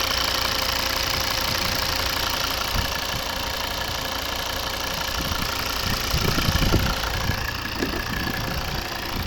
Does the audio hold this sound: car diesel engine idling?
yes